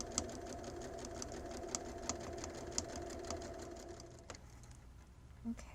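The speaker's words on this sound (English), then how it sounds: "Turn it back right side and continue sewing down your side seam." A sewing machine runs steadily down a garment side seam while an in-seam pocket is inserted, a continuous close mechanical whir with a few light clicks, slowing and stopping near the end.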